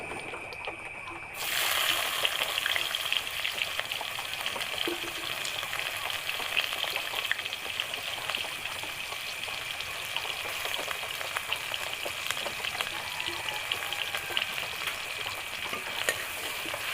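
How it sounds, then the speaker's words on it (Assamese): Sliced onions dropped into leftover hot oil after frying potol, a sudden steady sizzle that starts after a quiet moment and continues as a fairly soft, crackling fry with occasional stirring taps. "এতিয়া বাকী থকা তেলখিনিতে মই পিঁয়াজ দি দিম।"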